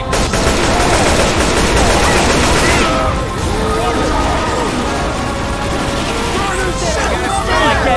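Heavy sustained gunfire from several players aimed at the Tank in Left 4 Dead, a dense loud fusillade of rapid shots with crashes mixed in, carrying on without a break the whole time.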